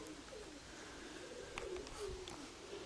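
Faint, distant pigeons coo in soft, drawn-out phrases over a steady hiss of outdoor background noise.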